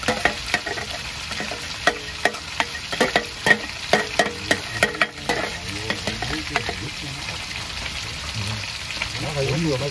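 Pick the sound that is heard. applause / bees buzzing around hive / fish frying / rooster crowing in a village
fish frying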